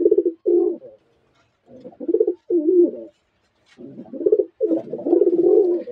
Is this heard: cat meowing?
no